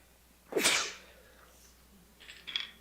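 A single sharp sneeze bursts out close to the mic, followed by a quiet breath and a faint sniff.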